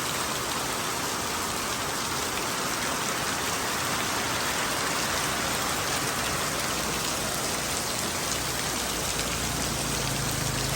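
Torrential rain in a storm pounds steadily and loudly throughout, a continuous dense hiss of drops striking surfaces, with no voices.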